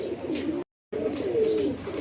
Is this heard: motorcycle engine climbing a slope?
no